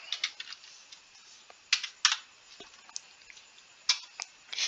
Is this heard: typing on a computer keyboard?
yes